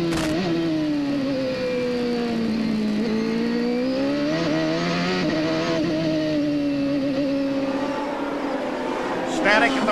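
CART race cars at the 1995 Miami round roar past in a sustained, loud engine drone whose pitch rises and falls as the cars stream by, with a commentator talking over it throughout.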